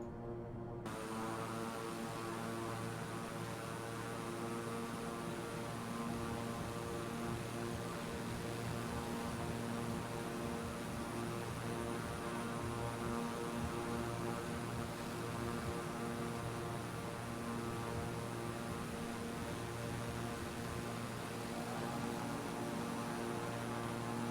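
An Asobo King Air 350i turboprop in Microsoft Flight Simulator runs up for a half-flap short-field takeoff, giving a continuous droning whine with layered steady tones that holds unchanged throughout, with nobody speaking.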